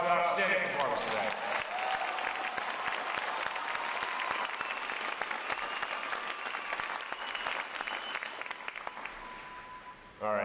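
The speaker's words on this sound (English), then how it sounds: "How about a round of applause for outstanding performance today?" An audience at a U.S. Navy recruit training boot camp graduation applauds in a large hall, sustained dense clapping for around ten seconds, a few whistles and cheers mixed in before it tapers near the end.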